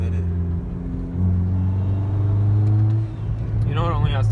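A Hyundai Genesis Coupe rated at 220 horsepower accelerates with a steady low engine drone that swells and holds, heard from inside the car under ongoing conversation.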